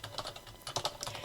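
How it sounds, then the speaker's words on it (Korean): Rapid keystrokes on a computer keyboard, a quick uneven run of close, crisp clicks heard alone. "자, 그럼 타이핑 먼저 치고 시작해 볼게요."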